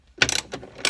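Ratchet clicks while loosening the top visor bolt on a Jeep Wrangler, two quick close bursts of sharp metallic ratcheting separated by a brief pause.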